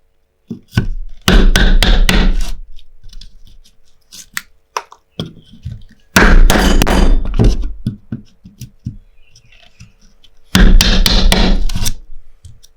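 A carpenter's hammer drives a chisel into wood to cut across the grain: three loud, close bursts of rapid thunking blows, separated by pauses that hold only lighter scattered taps.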